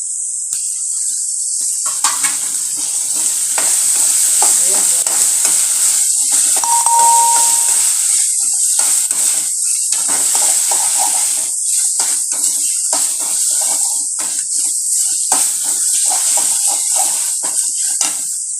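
Tomatoes frying in a pan for pepper chicken gravy, a loud, steady, close sizzle with a constant bright hiss that runs unbroken throughout.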